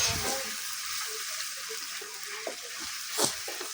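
Cumin and chili powder hit onions frying in hot oil, giving a steady broadband sizzle with brief crackling bursts and a louder spit near the end, close and continuous with no talking.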